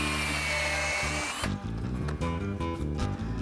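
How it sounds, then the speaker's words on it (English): A power drill with a 1/4 inch bit bores into wood for a stump table tenon, a loud steady motor whine that drops into a lower, rougher grinding as the bit bites, alone and close. "So I'm gonna drill from the back of the part down to the middle."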